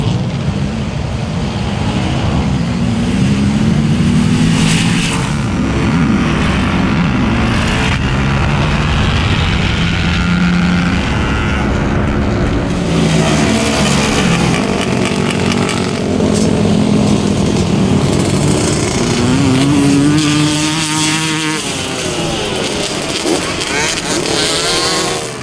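Sport quads and a Razor UTV roar across the Silver Lake sand dunes, engines loud and close, revving and droning continuously with rising and falling pitch, while a voice talks over the noise.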